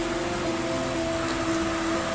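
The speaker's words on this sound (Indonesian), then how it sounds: "Dan kali ini hujan turun lebih pagi." Morning rain falling steadily around a house, a soft continuous broadband hiss with a faint steady hum running underneath, no voices.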